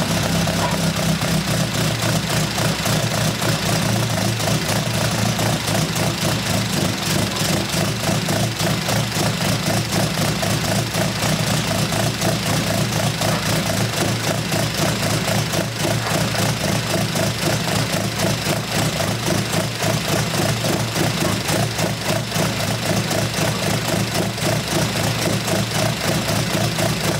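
A Honda S2000 fitted with individual throttle bodies, a Spoon-built car, idles steadily at close range for the whole stretch, an even, uninterrupted engine drone with no voices.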